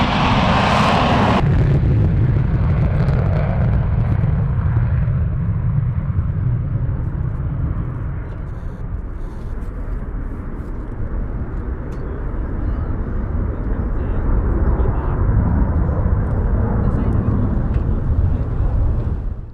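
Airplanes roar at the Western Park International Airshow, a loud, broad engine rumble that swells with a sharp burst at the start and then holds steady, close and continuous throughout.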